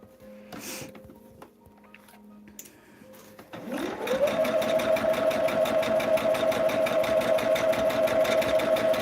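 A home sewing machine stitches through a quilt, starting up after quiet handling sounds and then running steadily with a fast, even whirring hum and rapid needle chatter, loud and close.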